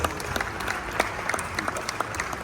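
Audience applauding a leader at a formal event with the President and Vice President, steady dense clapping throughout with sharp individual claps standing out, fairly distant and moderately loud.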